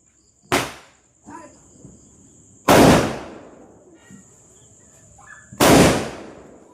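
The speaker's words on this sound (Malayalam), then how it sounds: "ഇതിനേക്കാൾ ശബ്ദം കുറഞ്ഞ പടക്കണ്ടോ ഇനി" Three sharp firecracker explosions at a Vishu celebration ring out at irregular intervals, each with a brief echoing tail, over a steady high-pitched hum and a few faint distant sounds.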